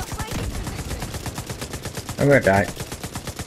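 Weapons firing in The Division 2 video game: rapid automatic gunfire rattles throughout in a dense stream of shots, with a louder burst midway and a voice speaking briefly over it.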